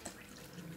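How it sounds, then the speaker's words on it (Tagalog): Water pouring into a basin to make a warm foot soak, a soft continuous splashing trickle heard up close and fairly quiet, with no voices over it. "So dadagdagan ko siya ng tubig"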